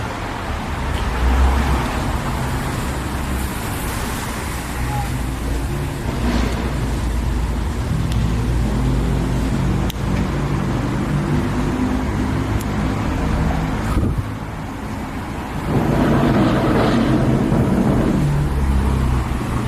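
A loud car engine rumbles steadily nearby, with a deep throaty drone that swells louder toward the end.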